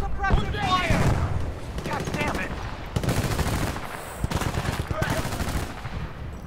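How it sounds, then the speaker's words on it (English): An AK rifle fires in Battlefield Bad Company 2 as several loud, rapid automatic bursts separated by short pauses, with a voice talking over the shooting. "I think this AK is probably the best gun in the game"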